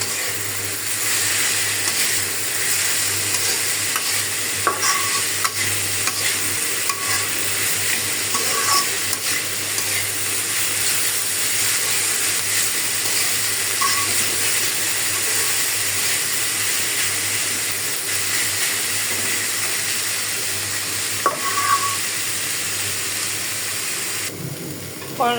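Bitter gourd (karela) with green chilies, turmeric and salt frying in a pan, a continuous bright sizzle with occasional scraping stirs and light clicks of the utensil, steady and close throughout.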